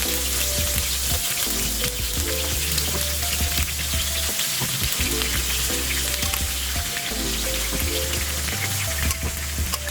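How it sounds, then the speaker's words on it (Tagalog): Pork pan-frying in hot oil, a steady loud sizzle that fills the whole stretch with dense crackling, with no voices over it. "Ipapay-fry muna po natin."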